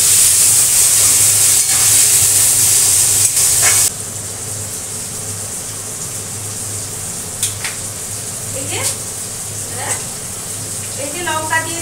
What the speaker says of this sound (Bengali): এই যে লঙ্কা দিয়ে দিলাম, আর টমেটো দিয়ে দিলাম। টমেটোটাও একটু ভাজা ভাজা হয়ে গেল